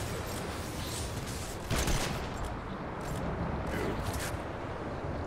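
Rapid bursts of automatic gunfire from the video game Fortnite, a dense crackling fusillade with a few sharper shot peaks, steady and loud throughout.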